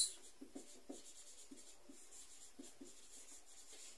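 Marker or chalk writing on a board during a biology lesson, with short faint scratchy strokes spaced irregularly and no talking over them.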